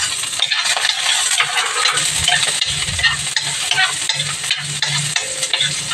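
Garlic and onion sautéing in hot oil for ginisang bahaw, a loud continuous sizzle with scraping and stirring clatter close up, no talking.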